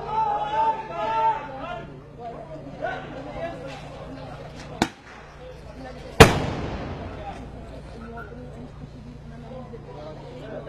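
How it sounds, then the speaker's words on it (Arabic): Stun grenades go off during a raid: two loud, sharp blasts a little over a second apart, the second followed by a ringing decay, with street noise and a voice throughout. "وإطلاق وابل من قنابل الصوت حتى هذه اللحظة"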